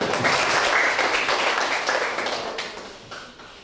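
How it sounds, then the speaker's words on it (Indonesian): Applause from a classroom of students, dense close clapping that holds steady before gradually fading out over a few seconds. "Tepuk tangan semuanya."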